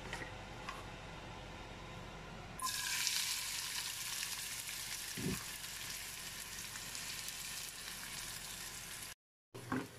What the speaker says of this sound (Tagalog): igisa na rin natin yung sibuyas